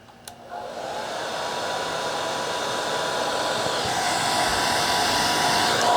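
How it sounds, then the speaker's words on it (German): A hair dryer powered by an ALLPOWERS R2500 power station starts after a short click and settles into a steady, loud whooshing blow that grows slightly stronger and holds without talk. "und ich kann jetzt natürlich auch wieder den Föhn anschalten"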